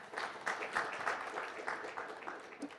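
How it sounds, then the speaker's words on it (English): Audience applause fills the room at a business breakfast and networking gala, a steady dense wash of clapping with a few louder swells throughout. "A round of applause to Mama."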